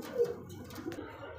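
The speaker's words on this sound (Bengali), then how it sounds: "আরো এক জোড়া জাম্বো সাইজের মধ্যে শৌখিন কবুতর আছে।" Jumbo-sized fancy pigeons give soft low coos, a faint brief call close by in an otherwise quiet space with no talk.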